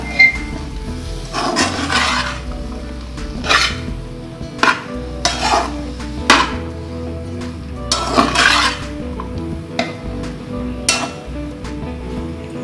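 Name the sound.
mixing coriander into potato samosa filling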